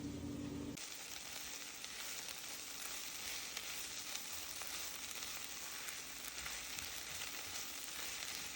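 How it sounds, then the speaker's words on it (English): Seasoned meat, marinated with chili pepper and paprika, sizzles loudly and steadily in a pan as it is stirred without pause, a dense, continuous hiss with occasional small pops and no voices. "I'm just constantly stirring because I don't want it to be too burnt."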